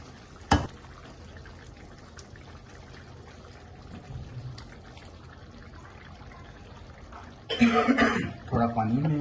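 Water is poured into tomato paste in a pan while cooking butter chicken, a brief splashing pour near the end after a sharp clatter early on and quiet kitchen background.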